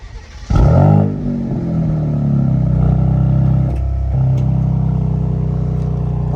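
A 2026 Dodge Charger Sixpack Scatpack, not a V8, fires up with a sharp loud start and rev flare, then settles into a steady rumbling idle with a brief blip midway, close and alone without talk.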